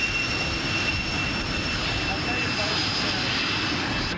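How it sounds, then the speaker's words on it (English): A Navy T-33 jet in Blue Angels paint flies past at an air show, a steady broad roar of jet engine noise that holds constant and loud throughout. "You can see that Blue Angels paint scheme, Navy T-33, flown by Sandy."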